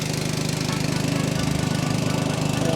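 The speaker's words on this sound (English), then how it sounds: "Turn on the air compressor again." An air compressor runs in a garage workshop beside a sandblasting cabinet, its motor chugging in a steady, rapid pulse at moderate volume with no one speaking.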